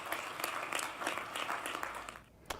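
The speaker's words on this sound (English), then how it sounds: "Can we clap hands for Morocco, please?" A studio audience claps in applause for Morocco as AFCON 2025 host, a steady patter of many hands at moderate distance that thins out briefly before a final clap.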